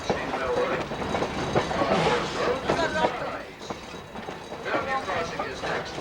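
An old-fashioned steam railroad train in Lancaster, Pennsylvania rolls along its rails with steady clattering and rumbling from the cars, heard from on board under a continuous wash of murmuring passenger voices.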